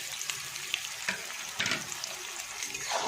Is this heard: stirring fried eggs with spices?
yes